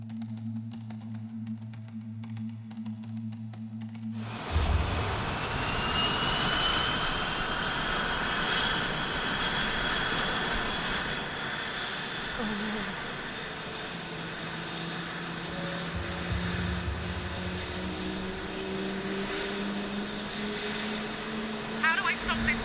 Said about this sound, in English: the plane started itself up